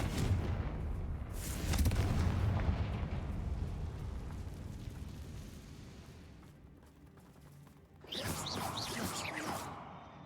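Booming fire-spell blasts from the Confringo spell in Hogwarts Legacy, a heavy explosive burst early, a long rumbling decay, then another loud fiery crackling eruption near the end.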